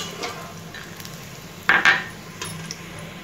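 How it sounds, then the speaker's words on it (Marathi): Shallow-fried sandge lifted out of hot oil with a metal spoon, a soft steady sizzle underneath with a brief clatter of utensil against the pan midway and a couple of lighter taps afterward. "सांडगे आपले मस्त असे शॅलो फ्राय करून झालेले आहेत, ते आता आपण काढून घेऊ"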